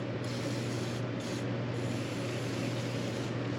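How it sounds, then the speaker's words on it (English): Aerosol cleaner sprayed onto a MINI Cooper engine in a shop, a hissing spray in several bursts with brief gaps, over a steady background fan hum. "going to start spraying in there now, clean that off"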